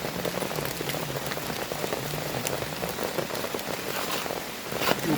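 Steady light rain pattering on a surface in a humid forest, continuous and even throughout with no voices.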